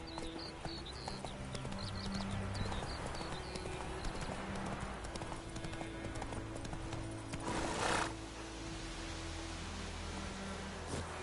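Roach the horse galloping in the video game Witcher 3, a rapid clip-clop of hooves under continuous wind and music, with a brief whinny-like burst near the end.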